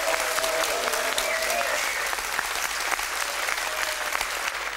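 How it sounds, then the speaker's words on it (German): An audience at a fish market show applauds loudly and steadily, a thick, continuous burst of clapping with a few faint voices underneath. "Und das ist nochmal euer Applaus"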